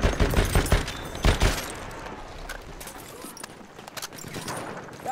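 Rapid machine gun bursts in a Battlefield 1 battle, loud clustered shots in the first second and a half, then fading into a quieter rumble of distant fire and ambient noise.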